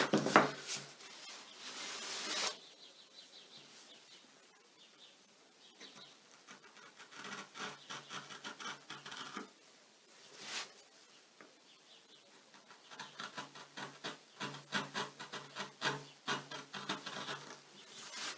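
A sharp carving gouge cuts into a printmaking block in bursts of dry scraping and rubbing strokes, close and moderately loud, separated by short quiet pauses.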